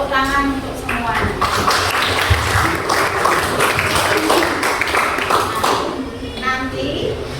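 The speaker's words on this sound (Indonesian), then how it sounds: "Tepuk tangan untuk semuanya." Classroom of children clapping hands together in applause, brisk dense clapping close by with children's voices and chatter mixed in throughout.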